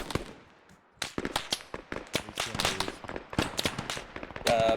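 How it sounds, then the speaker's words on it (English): Sharp, loud bursts of Arma 3 gunfire crackle in rapid, uneven volleys after a brief quiet start, with a dense cluster of overlapping shots continuing to the end. "That was a quick bunch of shooting."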